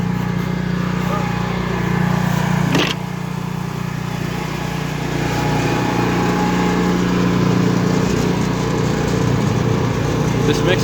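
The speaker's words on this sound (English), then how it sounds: "This mixer actually does quite well making Cobb." An electric rotary mixer churns cob with chopped straw in a steady, loud mechanical drone that barely changes for the whole stretch, with voices faint beneath it.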